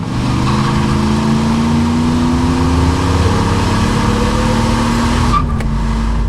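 1986 Chevrolet Monte Carlo SS with 35,000 miles, engine droning loud and close as it rolls into the throttle, revs climbing steadily before easing off near the end.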